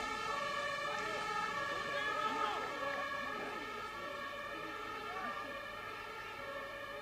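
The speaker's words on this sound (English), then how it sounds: "the sirens going in the background" Wailing emergency sirens sound from a distance under a steady roar of ambient noise at an outdoor youth football match near Stuttgart's MHP Arena, rising and falling continuously throughout.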